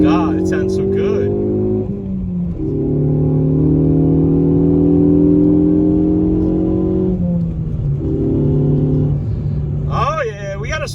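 Inside a Ford Focus ST running a Borla S-Type aftermarket exhaust, the engine drones loudly and steadily as the car accelerates, pitch climbing then dropping at two gear changes, with short bursts of voice at the start and end.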